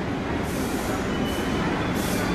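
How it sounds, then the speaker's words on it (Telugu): A New York subway train, the 1 line in Manhattan, arrives at the platform with a steady, loud rumbling roar and a faint high whine. "సో ట్రైన్ వచ్చింది పెన్ స్టేషన్ వెళ్ళడానికి."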